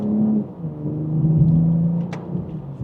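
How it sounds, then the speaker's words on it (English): A 2027 BMW M440i xDrive in Sport Plus, second gear, pulls through a mild acceleration, its engine a smooth rising drone heard from inside the cabin with a brief higher whir near the end, no one speaking. "just a minor acceleration, we can get up to speed"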